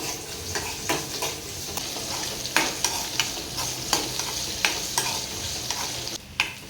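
Lengthwise-sliced onion frying in hot oil for a village-style dried bombil curry, a constant sizzle punctuated by regular sharp scrapes and clacks of a spoon stirring against the pan.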